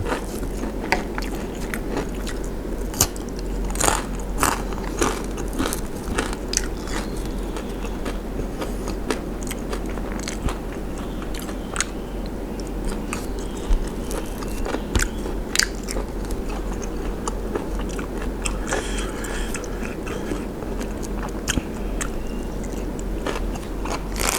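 Close, continuous crunching and chewing of crispy fried small frogs eaten with a spicy pounded bean salad, with steady crisp bites repeating throughout and no talking.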